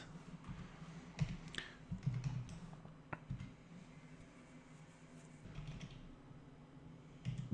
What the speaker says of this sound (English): inside the square brackets we type the values